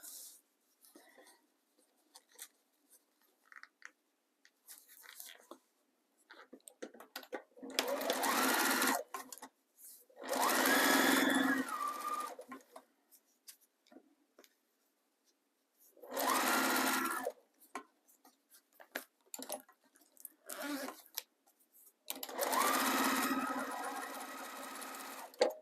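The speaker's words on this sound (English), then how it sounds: "I am going to sew again onto this side of the zipper tape." A sewing machine stitches a zipper pouch lining along zipper tape in several separate bursts of rapid whirring, each lasting a second or two, with quiet pauses and faint handling noises between them.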